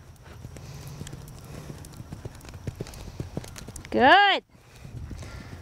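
Hooves of a ridden horse clip-clop at a steady pace in a riding clinic arena, faint under an instructor's talk.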